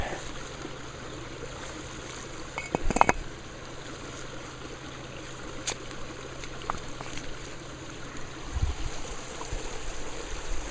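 Steady low trickle and flow of water filling a channel toward a waterwheel, a soft continuous wash with a brief clatter of handling noise early on.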